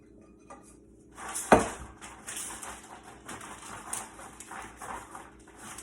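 Sugared nuts being spread across a metal baking pan, a sharp clatter as they are poured out, then light rattling and scraping as they are pushed into one layer, close and without talk.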